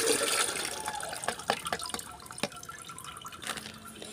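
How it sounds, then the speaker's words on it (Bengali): Onion-peel liquid fertilizer poured through a strainer, giving a steady wet trickle with scattered drips and splashes close by, fairly quiet and with no talk. "তো এই যে আমি ছেঁকনি দিয়ে এগুলো সব এখানে ঢেলে নিচ্ছি"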